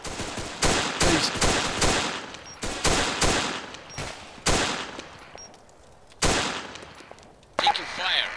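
Video game gunfire rings out in sharp, loud bursts and single shots, clustered rapid volleys with short gaps and ringing tails, close and dominant, with a brief pause before the final shots.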